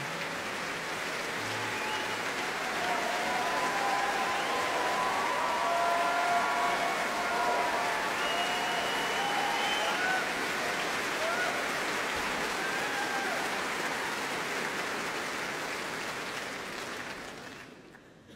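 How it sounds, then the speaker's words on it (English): Large concert-hall audience at the Doctor Who Proms claps in a long, steady roar of applause, broad and even, with faint whoops, tapering off near the end. "Now, applause for another early companion."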